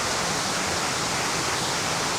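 Waterfall at Hemisfair Park in San Antonio, a steady, even rush of falling water filling the scene without any break.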